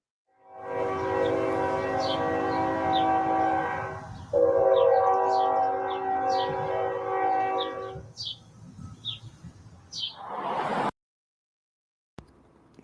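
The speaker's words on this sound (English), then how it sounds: "I heard that damn train" A train rumbles past loud and close for about eight seconds with strong harmonic horn blasts over the rail noise, then fades while birds chirp nearby, ending in near silence.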